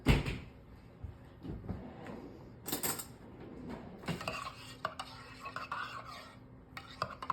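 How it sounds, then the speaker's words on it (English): Half and half being stirred into hot cocoa with marshmallows, a spoon clinking and scraping against a mug in a run of close kitchen clatters, with dish and cupboard knocks in between. "I always use a little half and half. You do a little stir."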